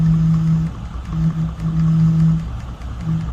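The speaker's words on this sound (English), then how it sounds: "The motor is definitely a linear vibration motor." Linear vibration motor in a Retroid Pocket Nova handheld buzzing against a tabletop, a low steady hum in repeated long pulses with short gaps between them, fairly loud and close with no talking.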